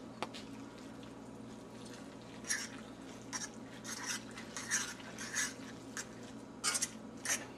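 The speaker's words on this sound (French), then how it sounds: "Puis là, on mélange." Quiet kitchen stirring as butter, cheese and milk are mixed into Kraft Dinner macaroni, with soft scraping and clinking of a utensil against a pot in irregular strokes over a low steady hum.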